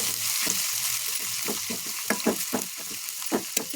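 Crushed garlic fries in hot oil with a bright, continuous close sizzle, broken by a few stirring scrapes and bubbling bursts, loud and alone.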